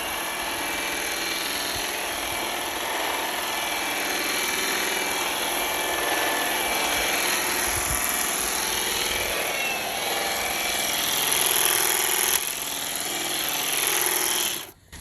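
A Milwaukee Quick Lok reciprocator attachment trimming and cutting brush, a loud continuous buzzing, chattering whir that runs steadily close by, swelling slightly near the end before cutting off abruptly.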